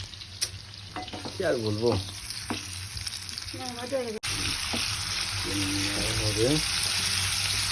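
Potatoes frying in a pan as they are stirred, a soft continuous sizzle with scraping strokes of the spoon, while someone talks over it and occasional clatter breaks through.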